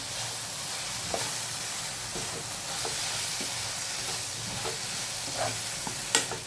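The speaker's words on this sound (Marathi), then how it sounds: "हे तीन ते चार मिनटं भाजून घ्यायचे चांगले असे करून घ्यायचे म्हणजे त्या तेलात कांद्यात आणि मिरची लसूणाच्या" Onion, green chili and garlic fry in hot oil in a pan, giving a steady close sizzle with occasional stirring scrapes and light clinks, and no voices.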